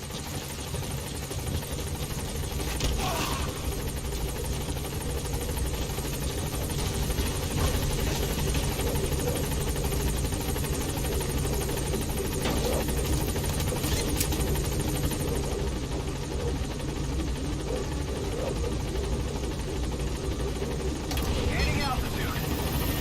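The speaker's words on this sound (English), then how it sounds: "Support helicopter has arrived." A support helicopter in the video game Metal Gear Solid 5: The Phantom Pain hovers with a constant heavy rotor and engine roar filling the scene throughout, while voices talk over it at times.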